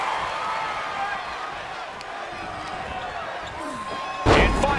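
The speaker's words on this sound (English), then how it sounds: "Dropkick hits the mark." A dropkick lands with a sharp slam in a WWE 2K24 wrestling match, a single loud impact near the end over the steady crowd murmur and commentary.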